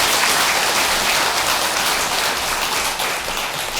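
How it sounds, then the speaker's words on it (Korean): Temple congregation applauding a choir after a celebratory song at a Buddhist dharma assembly, loud continuous clapping from many people, steady and close, easing slightly near the end. "박수 한번 쳐주시기 바랍니다"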